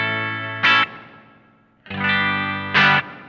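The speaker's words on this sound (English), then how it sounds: "I've got the reverb set at maximum and we're on the natural tone switch" Electric guitar through a Vahlbruch Pipeline spring reverb set to maximum with short springs and natural tone: two strummed chords, each with a sharp percussive spring crash, ringing out and decaying briefly.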